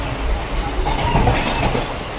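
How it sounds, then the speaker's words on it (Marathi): A passenger train bound for Sawantwadi rolls along with a steady broadband rumble and rattling wheels, loud and continuous throughout. "गाडी सुटलेली आहे टायमिंगला नऊ वाजता गाडी सुटली"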